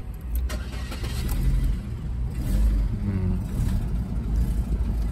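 A Chevrolet Cruze that has stood unused for a year cranks and starts, its engine settling into a loud, slightly rough idle with a low rumble throughout.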